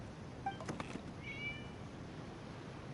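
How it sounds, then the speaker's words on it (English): A cat meows inside a video game, two short faint mews in quick succession, followed by a fainter tonal chirp over a quiet background. "It was just a cat."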